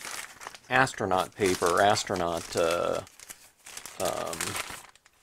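A shrink-wrapped plastic package crinkles and crackles as it is handled, close-up rustling mixed with and partly under a person talking.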